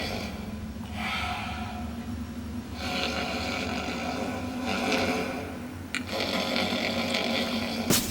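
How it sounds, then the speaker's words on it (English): An old man snores in slow, rough cycles, each heavy breath rasping and snorting up close. There is a steady background hum, and a sharper snort near the end. "an old man snoring"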